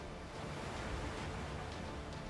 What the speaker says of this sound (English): Don't let the waterfall drag you down.